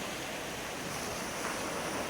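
Sea waves at Kalangahan beach in Lugait, Misamis Oriental, a constant broad roar of surf mixed with wind buffeting the microphone, loud and unbroken with no voices.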